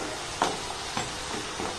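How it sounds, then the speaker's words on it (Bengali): Gaja, a flour and sugar pastry, frying slowly in hot oil, giving a steady soft sizzle with a few brief louder pops. "এবার এগুলোকে আমি আস্তে আস্তে ভেজে নেব আর লাল লাল করেই ভেজে নেব"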